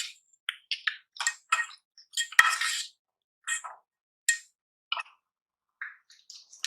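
A spoon stirs boiled goat meat in a metal pot for Peshawari namkeen gosht, making sparse, bright clinks and scrapes with short silent gaps between them and no talking.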